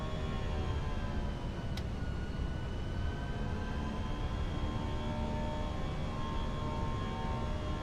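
Steady cabin-style engine drone of a British Airways A320 climbing out after departure in a flight simulator, a continuous broadband roar with faint tonal whine and a brief click near the start, no talk.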